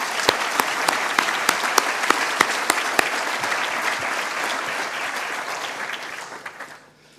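Dense audience applause at an annual forum honoring people who succeeded, strong sustained clapping with a few crisp loud claps early on, gradually thinning and fading out near the end.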